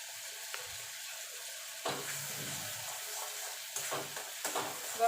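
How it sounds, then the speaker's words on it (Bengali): Mustard paste with turmeric sizzles steadily in a frying pan for a water-lily dish, with a few soft stirring scrapes rising above the constant frying hiss. "এবার সর্ষেটাকে মিনিট খানিক একটুখানি নাড়াচাড়া করে নেবো"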